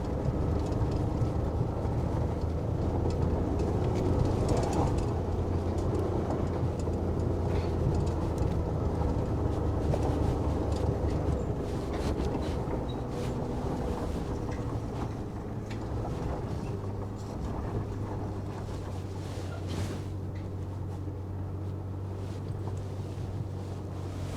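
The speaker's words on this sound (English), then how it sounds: "I put it in 4-wheel drive low, and I'm gaining speed to try to hit this hill with a little bit of speed behind it." A 2011 Ford F-150 3.5 EcoBoost in four-wheel-drive low, towing a heavily loaded gravel trailer uphill, gives a steady, loud engine drone with constant road and wind rumble throughout.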